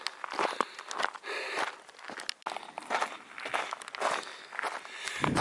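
Steady footsteps crunch over loose volcanic ground near Chinyero, a close rhythmic walking pace of gritty scraping steps that continues throughout without talk.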